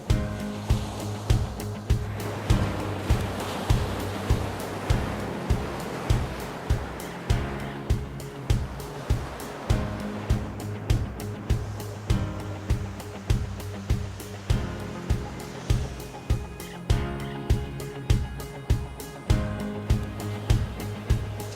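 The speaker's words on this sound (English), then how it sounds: "The ocean is so huge and so beautiful, and the sound is so majestic, like a symphony." Ocean waves wash onto the shore at Samcheok, Korea, a continuous broad roar with steady rhythmic surges of surf throughout, close and fairly loud, with no voices.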